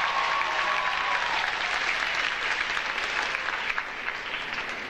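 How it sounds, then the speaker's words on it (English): Graduation crowd at a community college commencement clapping loudly and steadily, a dense wash of applause filling a large hall throughout. "give yourself applause"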